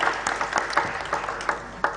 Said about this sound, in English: Let's give them a round of applause to the diasporas.